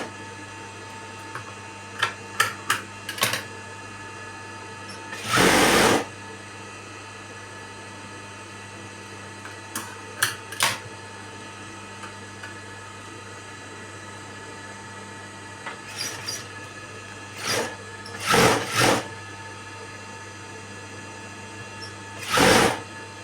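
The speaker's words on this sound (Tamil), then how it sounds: "அது மேலே அப்படியே ஒரு தையல் வைக்க போகிறோம்" Sewing machine stitching piping onto a blouse runs in short, separate bursts, some very brief and others about a second long, with quiet hum and gaps between them.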